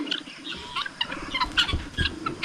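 Domestic guinea fowl kept on a small farm call in a flurry of harsh, rattling, chattering notes, several birds close by in quick irregular bursts.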